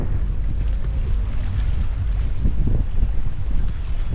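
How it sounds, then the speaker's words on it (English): Steady ocean surf and wind at a shoreline near a hotel in Aruba, a constant low rushing roar with gusty swells and heavy wind buffeting on the microphone, no talking. "Sounds like the ocean."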